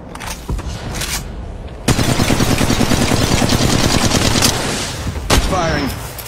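Automatic weapons rattle in Apex Legends Mobile: a few separate shots first, then a sustained rapid burst of close, loud fire lasting several seconds, tapering into scattered shots and a brief whooshing sweep at the end.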